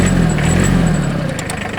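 A Hinomoto CX19 Japanese mini tractor's engine idles steadily and evenly, a continuous close, moderately loud mechanical drone with no talk over it.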